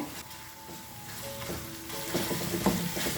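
Masala frying in oil over a low flame, giving a steady soft sizzle with light stirring scrapes and a few brief clinks, fairly quiet and continuous.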